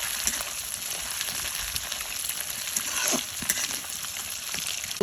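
Fish sizzles in hot oil with onions, a steady crackling fry with occasional pops and stirring, close and moderately loud.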